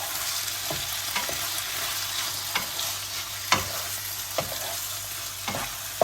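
Meat sizzles steadily in a frying pan while a utensil stirs, scraping and tapping against it every second or so, close and fairly quiet.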